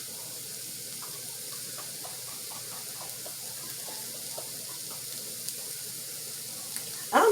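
A tap runs steadily as potatoes are rinsed, with faint splashing and scattered small knocks, then a louder clatter of water or handling at the very end.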